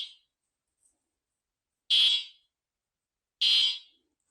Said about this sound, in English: When I press the horn, because I spliced the wires together, they are very, very loud.